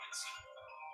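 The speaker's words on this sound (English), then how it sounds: "Felicia Robinson, answer your phone" A mobile phone ringtone goes off during a city council workshop meeting, a brief bright electronic tone burst with ringing harmonics that sounds clearly for under a second over a quiet room.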